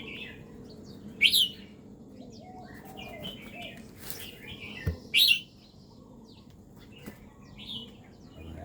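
A red-whiskered bulbul flits along a three-metre-long cage, giving two bright, sharp calls a few seconds apart amid soft wing flutters and faint background chirps.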